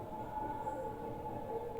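Inside a crowded moving train from Kolkata to Prayagraj: a low, steady rumble and rattle of the carriage with a faint whining tone on top, continuous and close.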